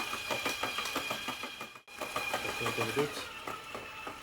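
A stand mixer kneading baguette dough, its motor whirring with a steady rhythmic thumping as the dough slaps around the bowl, moderately quiet, with brief pauses.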